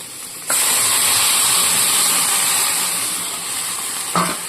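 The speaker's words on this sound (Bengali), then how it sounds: "এবার আমি পরিমাণ মতো জল দিয়ে দেবো।" Water is poured into a spice paste frying in a pan, setting off a sudden loud sizzle that settles into a steady, close hiss of bubbling and steam.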